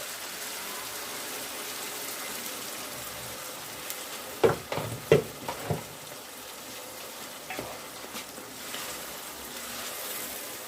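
Kofta and potatoes simmering in tomato sauce in a pot, a faint continuous bubbling hiss with a brief cluster of soft knocks midway, quiet and steady, no voices.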